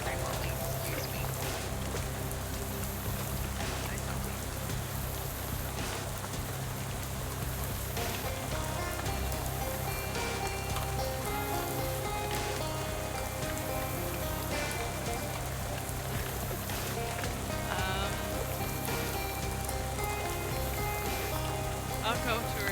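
Steady rain falling in the video game Shadows Over Loathing, a constant dense patter that runs unbroken for the whole stretch under game music and sparse effects.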